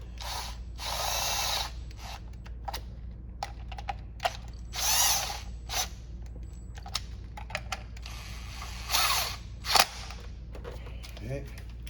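A power tool gun in short repeated bursts tightens spark plugs on a 2016 Hyundai Sonata, with ratcheting clicks and tool handling between bursts against a steady low hum.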